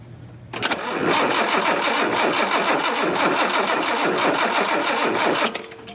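The engine of a 1976 Datsun 280Z cranks over in one continuous whirring, chugging run of about five seconds. It is loud and close, and it stops abruptly with no start.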